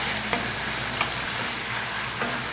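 Sweetbread sizzles on a Breville Smart Grill, a steady close frying hiss with a few faint pops and no voices.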